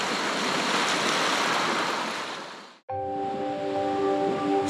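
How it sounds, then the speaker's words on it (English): Waves roll in on a Lake Superior shoreline along Minnesota's North Shore, a soft washing surf with wind buffeting the microphone, fading out briefly then resuming with some faint tonal background sounds. "It's hard to tell with the waves rolling in"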